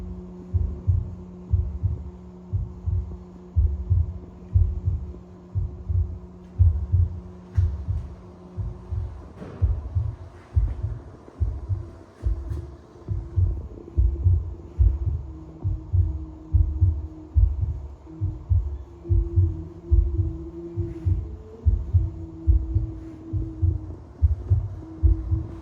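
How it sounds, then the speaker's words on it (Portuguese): A museum exhibit plays a heartbeat sound effect: deep, throbbing double thumps repeat in a steady, loud rhythm over a low electrical hum, with a few faint room noises behind. "Ó o batimento do coração dele."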